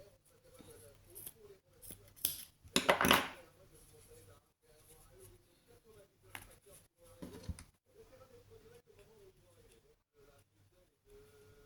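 Scissors snip thread while making a Breton-style doll, giving a few sharp, close cuts with the loudest around the middle, set against quiet handling noises and faint background cooing.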